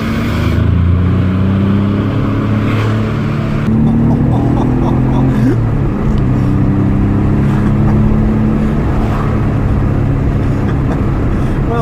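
A 33-year-old twin-turbo Maserati engine pulls hard under acceleration, a loud continuous drone rising through the gears with a shift partway through, heard from inside the car without speech.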